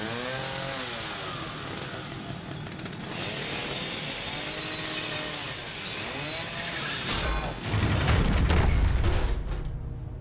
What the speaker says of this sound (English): We collect the chainsaw to cut open the door and press onward.